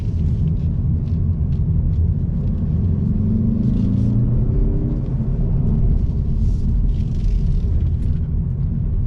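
A 2021 Mazda 3 Turbo AWD sedan drives with a steady, deep engine and road rumble, heard from inside the car, with the engine note rising briefly midway and no talking.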